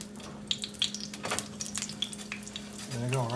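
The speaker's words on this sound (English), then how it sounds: "It's frying right up." Chicken frying in hot oil in a pan, a steady low sizzle running throughout with clinks and stirring sounds on top, growing louder near the end as more pieces hit the oil.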